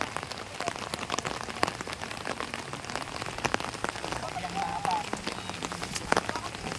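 Heavy rain pounds down in a flood-prone area, giving a dense, steady patter on nearby surfaces with sharper drips scattered through it, while voices murmur faintly in the background.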